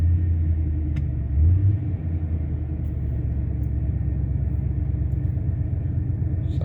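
A Ford Expedition engine idles steadily just after starting, a close, even low rumble that holds constant throughout with no revving.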